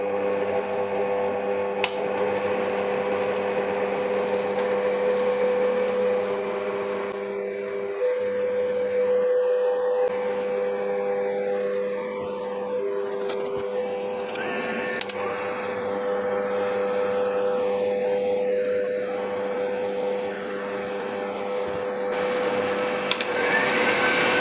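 A planetary stand mixer kneads pizza dough with a dough hook, giving a continuous loud motor hum with a steady whine that runs throughout, close up, with occasional faint knocks and no talk.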